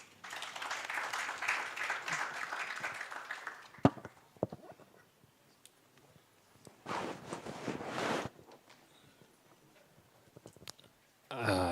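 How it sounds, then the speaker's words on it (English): Audience applause for a moderator and panel at an internet governance forum in Uganda, a moderate burst of clapping in a hall that dies away, followed by scattered claps and another short burst. "Another round of applause for our moderator and the panel"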